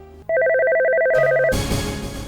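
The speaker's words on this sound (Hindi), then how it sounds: "शायद फोन आ गया।" An electronic phone ring: a steady two-tone warble repeating rapidly for about a second, then cut off by a burst of broadband noise.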